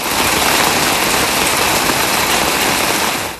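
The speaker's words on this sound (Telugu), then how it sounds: "జోరు వానతో ముంబై తడిసి ముద్దైంది." Heavy monsoon rain pouring down in Mumbai, a loud, dense, unbroken hiss of falling water that fills the whole scene.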